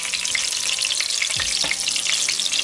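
Eggplant slices frying in hot oil for Korean-style eggplant, a dense continuous sizzle close by with a faint utensil clatter midway.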